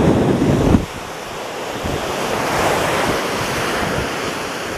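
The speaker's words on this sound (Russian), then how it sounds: "Немного моря во влог. Шумит, переживает. Море, море." Sea waves on a beach in Spain wash and roar nearby with steady wind buffeting the microphone, after a brief louder gust at the start.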